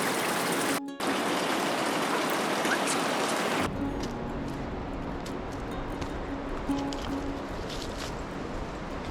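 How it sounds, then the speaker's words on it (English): Mountain waterfall near Kapuche Lake in Nepal, a steady broadband rush of falling water, loud at first and then softer and more distant, continuous throughout. "The cascading rhythm of the waterfall is a soothing experience."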